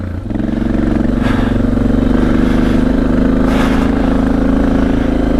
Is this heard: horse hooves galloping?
no